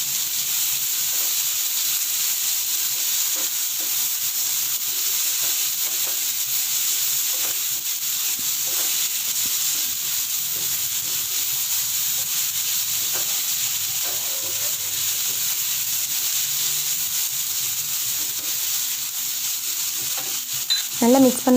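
Steady sizzling and scraping as ginger garlic paste is stirred in a hot frying pan, a continuous hiss with occasional utensil rubs, no talking.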